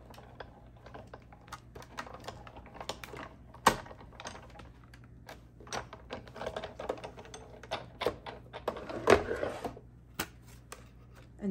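A Sizzix Big Shot die-cutting machine cranks paper and a die through its rollers, giving a steady run of close, dry clicks and ratcheting taps for several seconds with no talking.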